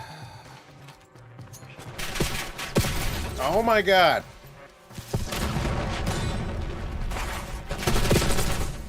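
Gunfire in a first-person shooter video game on the Nuketown map, loud bursts of shots and booms scattered across the stretch, with a player talking over them and a brief descending whoosh in the middle.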